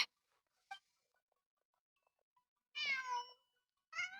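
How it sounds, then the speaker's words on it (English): A cat in the game Genshin Impact meows several times against near silence: a brief chirp, then a longer clear meow and a short final one, close and fairly quiet. "Just a cat."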